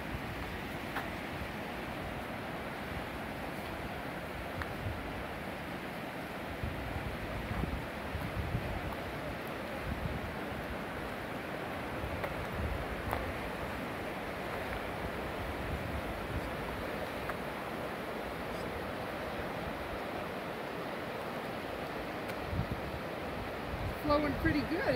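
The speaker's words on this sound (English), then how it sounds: "The raging waters of the Pemigewasset River." Rushing flow of the Pemigewasset River running high after a storm beneath the Albany Covered Bridge in New Hampshire, a continuous broad roar mixed with wind buffeting the microphone throughout.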